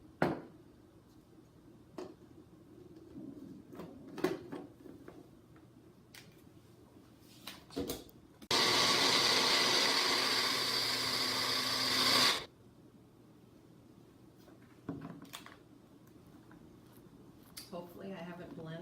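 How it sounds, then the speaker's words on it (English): A blender roars into a loud, steady whir for about four seconds, blending salsa to a smooth consistency, then cuts off abruptly, with clattering and handling noises before and after. "you're going to need to blend that product to a smooth consistency"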